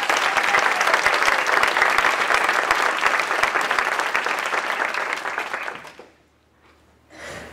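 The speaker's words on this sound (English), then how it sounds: "just take a moment to give a round of applause to Dr. Alyssa Dunn." An audience at a teaching-themed poetry gathering in Tucson gives steady, full applause for about six seconds. It then drops away to a brief quiet moment with a faint noise at the end.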